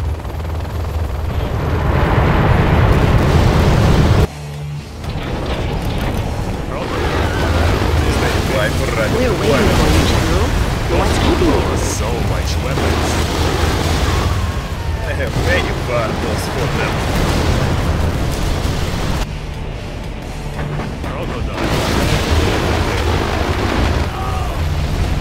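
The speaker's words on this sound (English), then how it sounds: "Russian artillery unit." A Russian artillery unit in the game Contra X fires and explodes in continuous loud, heavy booms and rumbling blasts that go on for the whole stretch, briefly broken by two short dips.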